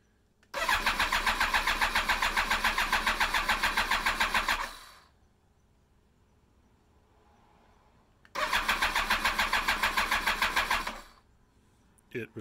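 A BMW K1300S motorcycle engine cranks in two long bursts of rapid, even starter churning, each lasting several seconds with a quiet pause between, and never catches or fires; it sounds close and loud.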